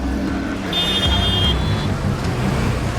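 Road traffic in Lagos, Nigeria, with a steady roar of engines and passing vehicles close by and a sustained car horn tone partway through.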